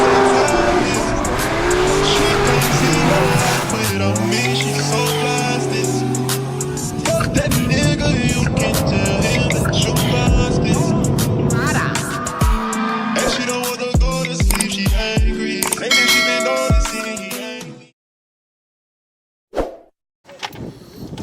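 A turbocharged Nissan Maxima making over 550 wheel horsepower, heard from inside during a ride-along: loud engine roar that rises and falls under hard acceleration, with turbo whistles and sharp pops. It drops to sudden silence, then a brief thump follows.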